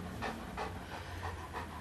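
Dog panting close by in steady repeated breaths, a quick rhythmic huffing over a low background hum.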